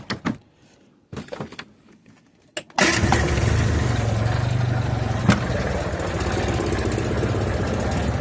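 A few brief knocks and clicks, then a cold Reliant Robin engine turns over and settles into a steady, low, rumbling idle with a slight exhaust leak, continuing close by.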